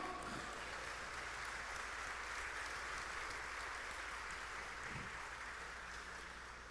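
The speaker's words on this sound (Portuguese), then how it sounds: "Você pode aplaudir o Senhor?" A church congregation applauds during a sermon, a soft, steady wash of distant clapping spread across the whole stretch, fairly faint and reverberant, with no speech over it.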